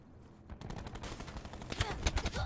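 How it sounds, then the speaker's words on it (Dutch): Rapid bursts of automatic gunfire in Call of Duty Black Ops 4, dense crackling shots building in intensity over a couple of seconds amid game noise. "Ik schiet op mijn teammate."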